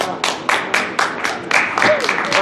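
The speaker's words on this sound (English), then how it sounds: "Another round of applause." An outdoor Earth Day celebration crowd by the Bronx River bursts into applause, a loud run of rhythmic clapping with strong, regular beats that carries on steadily without pause.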